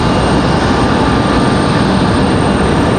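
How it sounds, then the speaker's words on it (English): An Airbus A321neo jet airliner taxiing for departure at Raleigh-Durham airport, a loud, steady broadband engine roar with a constant whine that holds level without a break. "He is probably heading up to this side for departure."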